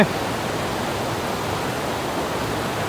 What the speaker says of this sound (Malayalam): ഇപ്പം നമ്മൾ ഈ ഒരു വെള്ളച്ചാട്ടത്തിലാണ്.